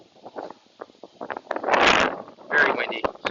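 Gusty wind buffets a microphone outdoors, with rumbling bursts that swell and fade under someone talking.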